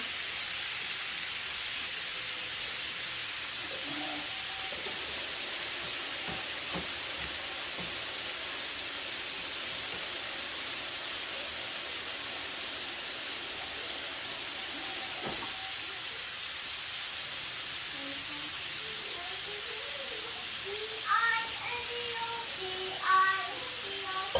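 Carne asada steak sizzles on a hot grill as it starts to char, a steady close hiss running throughout, with a few faint higher clinks and chirps near the end.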